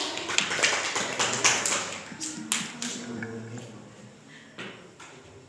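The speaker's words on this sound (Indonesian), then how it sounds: "Iya, tepuk tangan dulu ya." Applause in a classroom, a short burst of scattered clapping from a small group that is strongest at the start and thins out into a few last claps.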